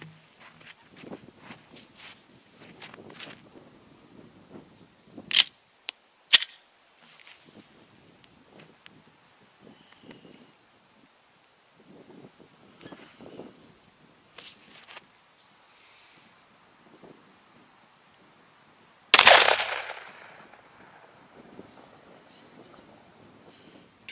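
A .357 SIG pistol firing Underwood 65-grain Xtreme Defender rounds over a chronograph outdoors: a few sharp, loud reports spaced apart, the last one strongest, over quiet background with light handling and movement sounds.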